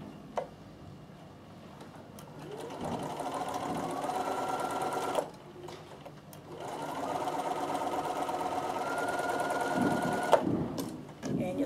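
A sewing machine stitches pieces of a Christmas table runner in two long, steady runs of rapid mechanical ticking and whirring, separated by a brief pause, heard up close.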